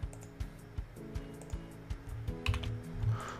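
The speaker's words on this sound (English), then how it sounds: "So what I'm going to do is I'm going to type this." Quick, irregular keystrokes on a computer keyboard, typed at a Windows command prompt, sound close and fairly quiet, with short pauses between bursts and no talking.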